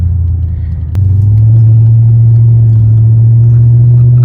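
Mercedes-AMG C32 engine held at quarter throttle, a loud steady low droning hum that steps up slightly in pitch after a brief dip and then holds constant, heard from inside the car.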